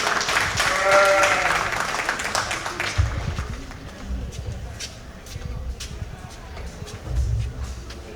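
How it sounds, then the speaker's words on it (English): Applause from the crowd at a county junior fair sheep show, loud and broad in the first three seconds and then tapering off, with a brief swell near the end. Livestock and some voices sound faintly underneath. "Let's give them all a great big round of applause."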